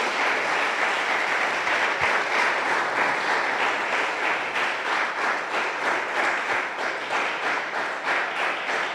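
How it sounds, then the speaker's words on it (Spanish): A church congregation gives a sustained round of applause, a dense and even wash of many hands clapping at moderate level with a faintly pulsing rhythm throughout. "Un aplauso para nuestro Dios."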